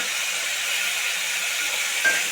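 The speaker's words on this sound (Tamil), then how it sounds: "தக்காளி சேர்த்து வதக்கி விட்டுக்கோங்க" Tomatoes and onion sauté in a pan while cooking a brinjal kadayal, giving a soft, steady sizzle and hiss throughout with no talking.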